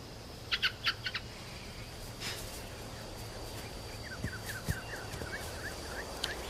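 A bird calls in an animated series set in the Thousand and One Nights world of Sinbad, with a few quick tweets, a soft hooting call and then a rapid series of chirps against faint ambient background.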